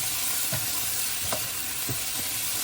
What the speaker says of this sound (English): we're gonna mash in the ground beef